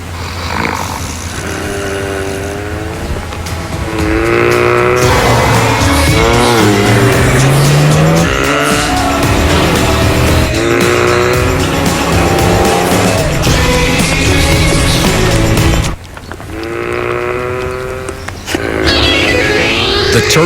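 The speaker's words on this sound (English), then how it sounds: "The turbocharged dream machine, the Volkswagen Golf GTI" A turbocharged Volkswagen Golf GTI in a TV ad, with its engine revving loudly and rising and falling in pitch through gear changes, joined by tire squeals, a brief drop at one point before it roars back.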